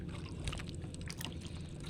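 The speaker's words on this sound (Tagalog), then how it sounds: "malamig nga ulan." Cold rain pattering steadily on a small fishing boat at sea, a soft continuous wash of droplets with light splashy ticks throughout.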